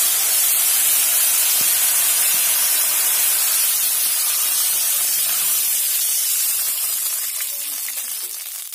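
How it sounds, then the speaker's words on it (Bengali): Water poured into hot oil seasoned with panch phoron and dried chillies, for a Bengali kolai bori mustard curry, throws up a loud, continuous steamy hiss and sizzle that slowly softens toward the end. "এবার আমি দিয়ে দিচ্ছি এর মধ্যে জল।"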